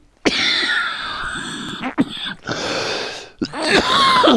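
A speaker with a fever coughs and clears their throat several times in a row during a speech, the bursts close, loud and separated by short pauses.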